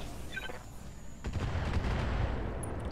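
Mech weapons firing in Roguetech, including Vulcan guns, with a sharp burst opening into sustained rattling gunfire and booming shots, loud and continuous.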